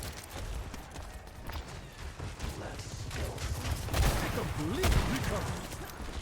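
Scattered gunshots and ability sounds from an Overwatch esports match between school teams, popping intermittently beneath an excited commentator talking over the action.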